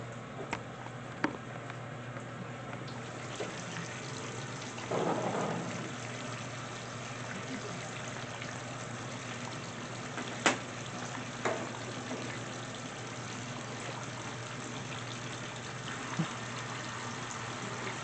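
A GE washing machine on its cold rinse cycle gives off a steady low hum with water sloshing and trickling inside the drum, a brief surge of flow midway and a few soft clicks and knocks.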